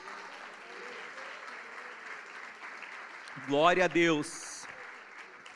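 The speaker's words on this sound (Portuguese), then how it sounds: "Você pode aplaudir ao Senhor para tomar uma água?" A church congregation at a prayer service applauds steadily and evenly throughout, and a voice briefly calls out over the clapping near the end.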